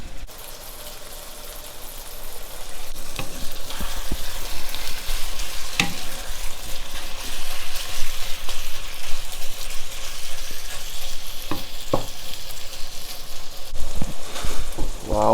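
Spicy beef bulgogi frying in a pan, a steady close sizzle throughout with occasional scraping and stirring clicks from the utensil, no talk over it.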